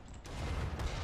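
Enemy machine gun fire in the strategy game Iron Harvest, a steady rattling burst that holds for about a second, loud and dense, with a sharp mechanical edge at the start.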